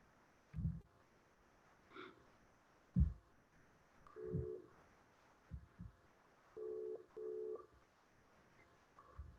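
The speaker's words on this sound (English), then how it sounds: "Okay, I'm calling you Coco Tuli." A WhatsApp call is being placed, producing a series of short tonal ringing or dialing beeps with pauses between them, moderately loud and without talk.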